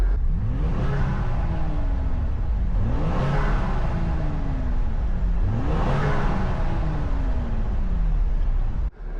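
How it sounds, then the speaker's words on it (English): A 2025 Ford Explorer 3.0L turbo V6 in sport mode revs hard three times in a row, each pull climbing in pitch then dropping back, loud and close with a steady idle between. "I'll just put it in sport mode real quick so you guys can hear the revs"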